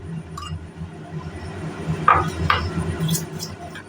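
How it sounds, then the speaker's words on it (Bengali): Homemade sour yogurt being whisked with a spoon in a bowl, giving a few sharp clinks of metal against the dish over a low background, close by. "এইরকম করে ফেটিয়ে সুন্দর করে ওর মধ্যে দিয়ে দেব"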